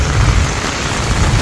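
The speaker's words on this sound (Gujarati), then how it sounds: "ધીરો પડ્યો હે વરસાદ ગાજ ને વીજ બહુ કડાકા હે" Steady rain pours down in a village during a thunderstorm, a dense, even hiss with a low rumble underneath, continuous and close for the whole stretch with no voices.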